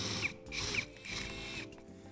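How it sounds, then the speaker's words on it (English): A drill bit boring out a damaged screw, heard as a close, loud grinding whir with ratchety pulses and brief squeaks across a couple of seconds, with no talking. "we turn to a drill bit"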